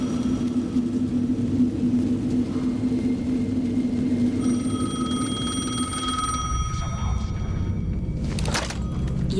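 A telephone rings in the game Alan Wake 2 over a dark, rumbling ambient drone. The ringing tones come in midway and fade, then a burst of noise follows near the end.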